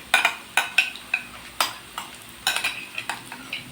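Tomato paste being stirred in a frying pan for Yemeni-style shakshuka, a quick series of sharp scraping strokes of a spoon against the pan over a soft sizzle, close and without speech.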